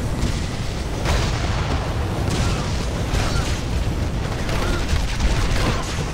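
Grenade blasts from air support in the Marvel Ultimate Alliance 2 video game form a continuous barrage of booming explosions and bursts, loud and dense throughout with no clear gaps.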